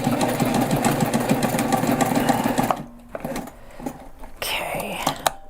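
A sewing machine stitching a backpack runs in a loud, fast, steady mechanical chatter for a few seconds, then stops; quieter handling clicks and a soft voice follow.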